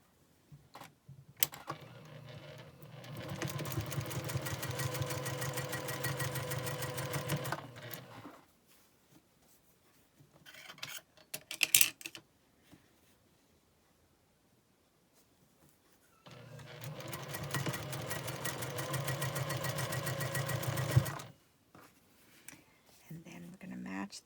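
Quilt blocks of fabric triangles are stitched together on a sewing machine, two sustained bursts of steady mechanical whirring separated by a quiet gap with brief handling clicks and rustles.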